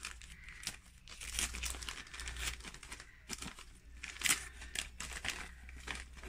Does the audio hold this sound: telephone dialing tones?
no